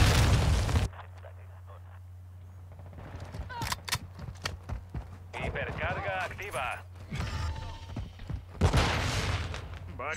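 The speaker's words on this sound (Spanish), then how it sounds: "Lanzo una granada aturdidora." A stun grenade goes off in Call of Duty: Modern Warfare II, a loud broadband burst at the start followed by ringing, muffled game ambience, scattered mechanical clicks and gunfire, with a voice heard amid the action.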